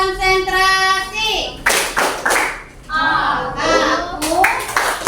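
Children's voices chant together in Indonesian while clapping hands in rhythmic patterns, a classroom concentration clap, with bursts of claps between sung phrases in a lively room.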